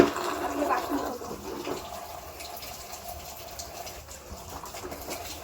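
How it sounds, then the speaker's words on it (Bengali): Leaves being washed by hand in water at an outdoor picnic: continuous splashing and sloshing, livelier at first and then settling into steady trickling, with faint background chatter. "পাতা ভালো করে কচলে কচলে ধুতে হবে"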